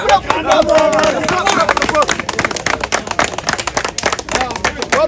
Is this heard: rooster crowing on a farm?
no